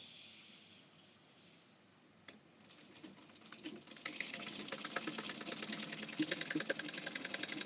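A sewing machine stitches a kaftan neckline with a three-sut, quarter-inch seam, starting after a quiet lead-in and settling into a steady, fast, close whirring rattle.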